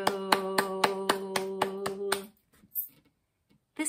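Hands clapping in a steady beat under a sung children's song, about eight sharp claps over a held melodic tone, then the music stops and a few faint taps follow in near silence.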